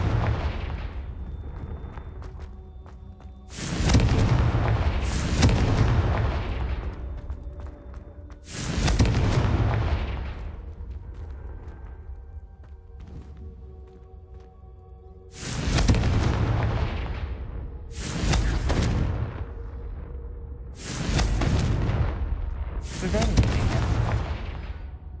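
Confringo spell blasts in Hogwarts Legacy boom out one after another, several loud explosive bursts with rumbling tails separated by quieter gaps, spaced across the stretch with later ones coming in quicker succession.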